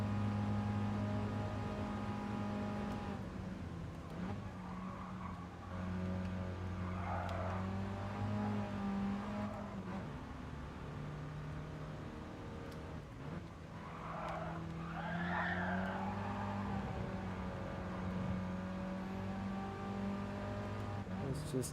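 Toyota Crown race cars, 500 horsepower machines in a racing video game, roar with a sustained engine drone that rises and falls through gear changes, with tires skidding and squealing under hard cornering; a voice talks over parts of it.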